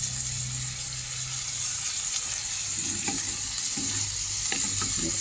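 Vegetables, including cabbage, fry for lumpiang gulay with a loud, continuous sizzle. Close stirring scrapes and soft clatters sit over the hiss.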